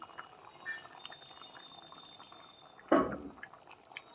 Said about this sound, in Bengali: টকবক করে ফুটছে ফুলকপি আলুর রসা